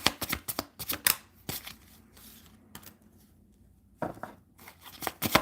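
Tarot cards being shuffled and drawn: rapid, close riffling snaps in quick clusters, a quieter stretch of soft handling, then another burst of crisp shuffling.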